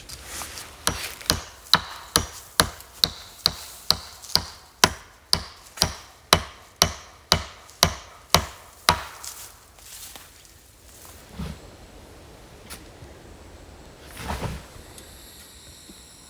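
A wooden box being nailed together by hand, a steady rhythmic series of about twenty sharp hammer blows, fairly close and loud, followed by a few scattered knocks and quieter handling.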